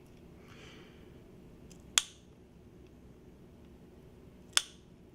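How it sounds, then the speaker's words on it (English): Bone nippers cut through a cat's rib cage one rib at a time: two crisp, sharp snips spaced a few seconds apart over a quiet, steady background hum. "I'm then going to use the bone nippers and just one rib at a time"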